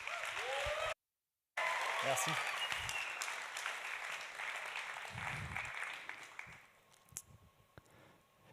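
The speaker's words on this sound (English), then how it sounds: "please give a big round of applause" An audience at the Paris Techstars Summit 2022 claps for a speaker from the battery company BIB Batteries. The steady applause breaks off briefly, then fades, and a voice speaks near the end.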